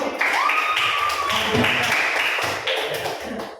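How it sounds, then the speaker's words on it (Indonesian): A class claps in a steady, lively burst of applause lasting a few seconds, with chatter and a faint tone running underneath. "tepuk tangan dulu untuk kelompok 1"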